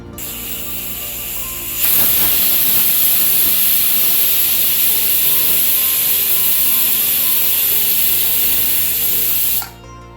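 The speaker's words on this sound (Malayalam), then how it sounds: "നാല് വിസിലായി ഞാൻ അടുപ്പ് ഓഫ് ചെയ്യണേ" A pressure cooker of horsegram curry vents steam with a loud, harsh hiss that bursts on suddenly, holds steady for about eight seconds, then cuts off abruptly.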